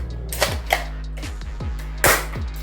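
Several sharp, snappy shots from an MP40 airsoft submachine gun, spaced unevenly, close and crisp with a mechanical click to each.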